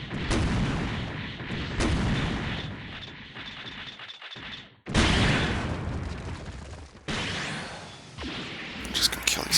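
Heavy cannon fire and blasts in the SD Gundam Online video game, loud repeated booms and bursts in rapid succession with brief gaps, a voice murmuring underneath.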